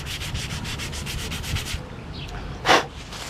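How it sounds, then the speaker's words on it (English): Hand sanding with steady back-and-forth rubbing strokes in a rhythmic series, then a pause and one brief louder scrape near the end. "And that's about how much sanding I would do."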